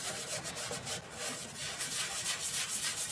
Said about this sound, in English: It's time to start highlighting it with Yorkshire grit and see what it really wants to expose.